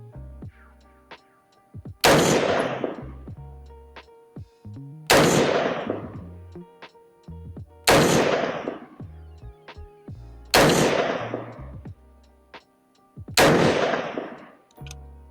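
PSA PA-15 M4 carbine rifle fired outdoors, five loud single shots spaced roughly every three seconds, each a sharp crack trailing into a long echoing decay.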